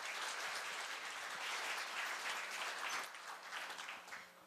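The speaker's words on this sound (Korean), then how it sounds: "큰 박수로 맞이해주시기 바랍니다" Audience applause at a Korea University graduate school of labor studies evening ceremony, steady dense clapping from a crowd welcoming introduced guests, sustained and then easing slightly toward the end.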